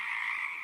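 A frog gives a brief, steady croaking call of under a second, moderately faint and heard alone with no voices.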